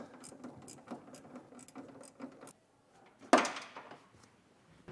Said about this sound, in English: Now we're going to take a 19mm socket and tighten down our frame bolts